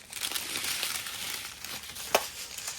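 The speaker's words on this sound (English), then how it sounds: "And here it's crinkling." Plastic packaging from a Diamond Art Club diamond painting kit crinkles and rustles close to the microphone in a steady, continuous stream, with one sharper crackle near the end and no talking.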